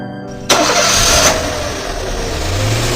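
A van engine cranks and catches in the Evil Nun video game, starting abruptly with a loud burst and then settling into a steady, close idle hum that runs to the end.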